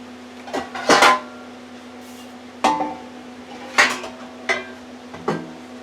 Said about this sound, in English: now I want to get out a pan.